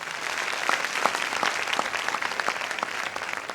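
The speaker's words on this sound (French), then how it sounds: "Encore des applaudissements." Audience applause at a televised singing competition quarter-final, a dense steady patter of many hands clapping throughout, fairly loud and close with no talk over it.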